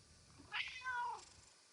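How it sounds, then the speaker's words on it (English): A cat gives a single soft meow, fairly faint and close, with a quiet room hush before and after. "Kitty meows."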